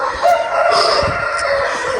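A Turkish breed rooster crows loudly and close by in a single drawn-out call, with faint clucking from other fowl around it.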